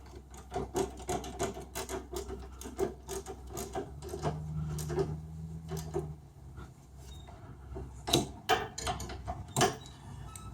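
A ratchet wrench works a lift bolt on a Cub Cadet 682 lawn tractor during a three-point lift installation, making quiet, close, rapid rhythmic clicking with some rubbing and scraping, with sharper clicks toward the end.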